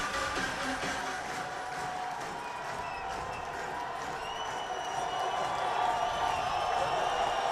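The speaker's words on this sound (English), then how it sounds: "Here comes the crowd" A stadium crowd at a college football game between Georgia State and Coastal Carolina keeps up a continuous distant roar that swells slightly toward the end.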